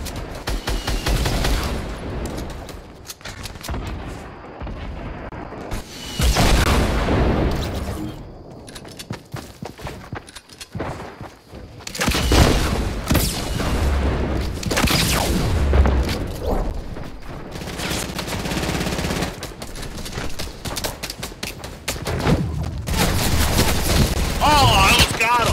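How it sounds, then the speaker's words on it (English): In a Fortnite battle, rocket launcher blasts and bursts of gunfire crack and boom repeatedly in loud, uneven volleys separated by brief lulls, with a player talking over the chaos. "Rocket launcher dudes on me."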